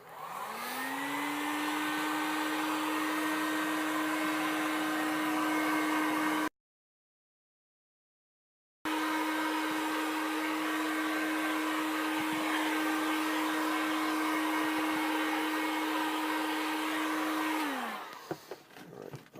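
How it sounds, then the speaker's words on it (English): Heat gun blowing hot air over craft foam to soften and curve it for an Ice Warrior gauntlet, a steady loud whooshing drone with a high whine that runs almost without break until the gun switches off near the end, no talking. "Spent quite a few minutes there applying heat to that."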